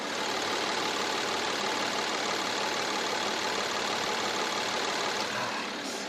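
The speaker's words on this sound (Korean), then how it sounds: "엔진 소리 한번 들려드릴게요" A Mercedes-Benz CLS six-cylinder engine idles with the bonnet open, a steady, even hum and hiss that stays constant at close range throughout, with no talking over it.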